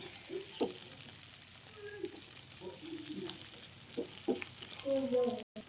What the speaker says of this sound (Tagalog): Lutuin muna natin yung kamatis. Para magkalasa. Kumapit yung lasa niya sa ating karne.